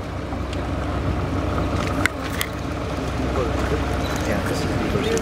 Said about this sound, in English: So the boat's going over the cliff right now.